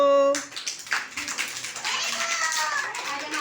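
Young preschool children in Jamnagar clap their hands together during a rhyme activity. A dense, busy patter of many small hands goes on steadily, with a voice briefly at the start.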